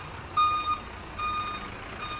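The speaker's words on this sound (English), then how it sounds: "like there's a truck backing up" A truck backing up on a city street sounds its reversing alarm, a couple of thin, steady high beeps spaced apart over faint background noise, with no talk.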